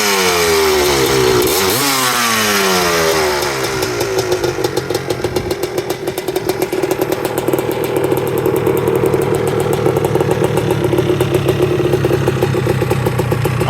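A restored 1985 Honda ATC250R three-wheeler engine runs steadily through its muffler, loud and close, with a quick rev early on settling into a continuous rapid two-stroke idle burble.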